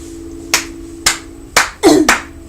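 Five sharp hand claps spaced about half a second apart, close and dry, with a steady low hum underneath and no talking.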